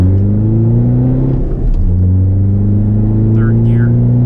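A scooter with nitrous and a TDi clutch accelerates hard in second gear, a loud, steady engine drone climbing in pitch up close with a brief dip mid-way, and a short squeal or chirp near the end.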